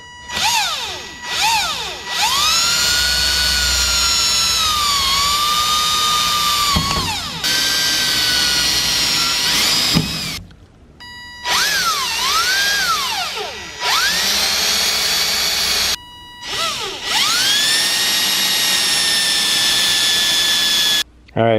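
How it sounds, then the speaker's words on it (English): A power drill bores holes into a slanted wing surface in loud, high whining bursts that rise and fall in pitch, separated by short pauses as the bit is stopped and restarted. "got the holes drilled out"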